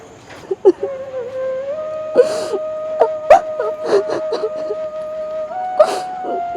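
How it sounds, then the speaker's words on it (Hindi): A girl cries nearby in halting wails and whimpering moans, with sharp gasping breaths between sobs over a faint steady tone. "किसी के रोने की आवाज़ आ रही है वहाँ से।"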